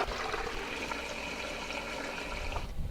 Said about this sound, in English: I'm going to fill the pot halfway with water.